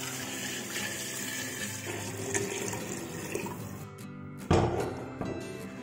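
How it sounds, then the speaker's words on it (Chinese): Clear water is poured into a clay pot holding herbs and ginger slices for a slow-cooked soup, giving a steady close splashing stream followed by a sharper, louder splash near the end. "倒入适量的清水"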